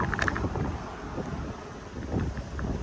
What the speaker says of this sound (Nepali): फ्रेस हावा दामी चलिन्छ हावा खतरा